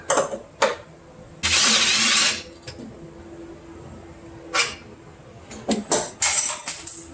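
An impact wrench bursts in short loud whirring runs while spinning nuts during a high-output alternator install on a Jeep, with clinks and quiet pauses between bursts.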